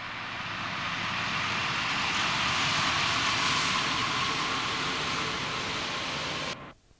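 A freight train on a railway flyover between Newark and Doncaster gives a steady, broad rumbling roar that holds for several seconds and then cuts off, heard from trackside with no speech.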